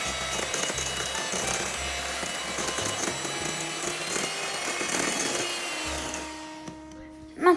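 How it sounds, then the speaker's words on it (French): Electric whisk beating banana cake mixture in a bowl, a steady whirring motor hum that runs loud and then stops near the end, followed by a clunk. "prenez un fouet électrique et nous allons battre le mélange et il faut qu'il devienne mousseux"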